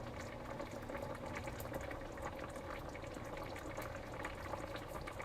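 Egg noodles boil in a pot of water on a home stove, giving a steady, continuous bubbling hiss with no gaps and no voices, moderately quiet and close.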